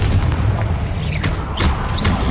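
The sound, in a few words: Confringo exploding spell blast in a Harry Potter video game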